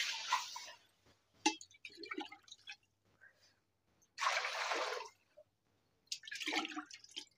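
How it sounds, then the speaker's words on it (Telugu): Water is poured from a cup into an ordinary kadai in several separate splashing bursts with short pauses between them. The sound is fairly close and clear, with no talking. "దీంట్లో నీళ్లు పోస్తున్నాను ఒక 4 డబ్బాలు."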